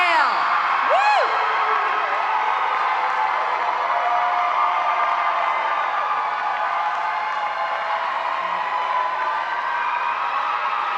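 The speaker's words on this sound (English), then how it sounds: "Clap, scream, shout, yell." A large graduation crowd cheers and whoops continuously, with shrill whistles and high shouts rising over a steady roar of voices.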